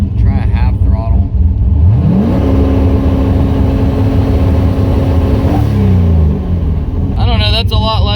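Turbocharged, nitrous-equipped LS-swapped Mazda Miata engine revs at half throttle, a loud close rumble that climbs, holds a steady pitch for several seconds, then drops back to idle, with a voice speaking near the end.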